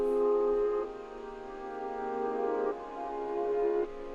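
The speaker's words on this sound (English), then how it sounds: "I also added in a piano, but I reversed it, so it sounds like this" Reversed piano chords swell upward in three long phrases, each building in loudness before cutting off abruptly, clear and alone with no one talking.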